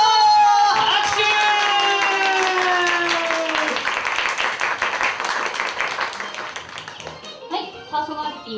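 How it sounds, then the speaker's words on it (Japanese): At a small café music show, a sung tonal line fades into lively hand clapping from a modest audience, the clapping thinning toward the end as voices take over. "拍手。"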